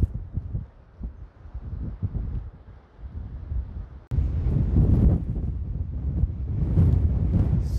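Strong wind buffets the microphone at a harbour by a naval base in Simon's Town, South Africa, with gusty low rumbling that jumps to a louder, sustained roar halfway through.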